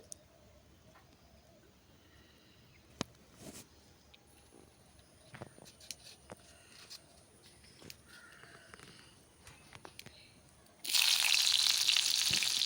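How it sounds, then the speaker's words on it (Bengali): Sliced onion drops into hot oil in a wok over a wood-fired stove, with a few quiet clicks and knocks before a sudden loud, sustained sizzle bursts up. "তেলের মধ্যে দিয়ে দিলাম পেঁয়াজ, পেঁয়াজের মধ্যে দিয়ে দেবো চিংড়ি।"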